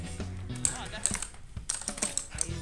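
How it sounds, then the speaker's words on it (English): Rapid, clicky typing on a Razer Huntsman Elite mechanical keyboard, with dense bursts of keystrokes close by and a voice briefly heard underneath. "Cameron, Phonzey, I got a new keyboard as well. I got the Huntsman Elite"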